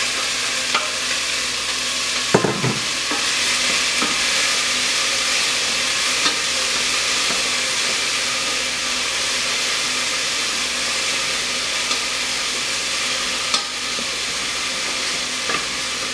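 Bell peppers and onions frying in a soup pot, a steady sizzle running throughout with occasional stirring clinks and scrapes.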